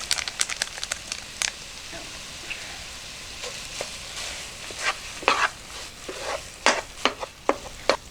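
Sausage browning in a pan for a lentil soup, frying with a soft steady sizzle while a utensil stirs and scrapes in irregular clicks and scrapes, close and fairly quiet, no talking.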